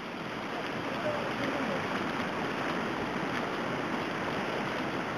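A river spills over a hiking path near a coal mine entrance in Ciñera, León, making a steady, unbroken rush of flowing water that stays close and even throughout.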